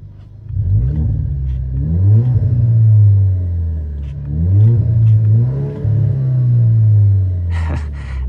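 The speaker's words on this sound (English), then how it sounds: "let's take a quick listen to the exhaust" An Alfa Romeo Giulia sports sedan exhaust revs several times, rising to a deep throaty roar and falling back to a rumbling idle between pulls.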